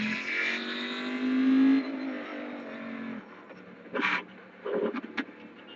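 A race car engine in the iRacing sim game revs and pulls steadily through a lap, loud and alone, then eases off with a few short throttle blips near the end.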